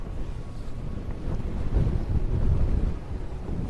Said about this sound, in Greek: Βλέπετε, έχει ιδιαίτερη αυξημένη ένταση ανέμου και το κύμα έχει δυναμώσει